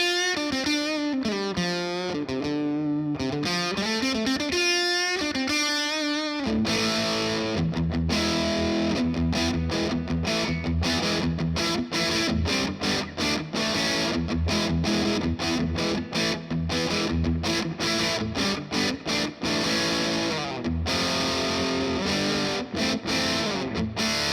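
Electric guitar played through a Boss DS-1 distortion pedal: a loud, heavily distorted bending lead line gives way to fast chugging rhythmic chords, played solo and up close.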